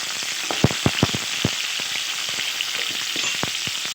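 Banana flower fritters fry in hot oil with a steady close sizzle and scattered sharp crackles and pops, with no voices.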